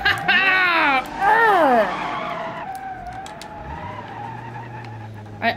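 A car in the BeamNG.drive driving game skids hard after its e-brake is pulled, giving two loud bursts of tire squeal with sweeping pitch. The car then settles into a steady engine drone.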